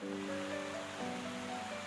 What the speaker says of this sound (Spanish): Estos son los magníficos jardines de agua de la villa este de Tívoli.